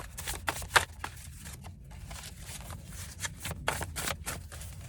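Tarot cards are shuffled in a quick series of riffling, papery rustles and soft slaps, repeated in close, irregular bursts with no talking.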